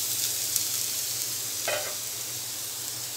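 Grated cabbage frying in oil left over from frying green chillies, a steady soft sizzle throughout with a brief stir-like scrape midway, close and fairly quiet.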